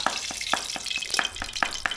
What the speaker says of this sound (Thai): อันนี้ทอดปลา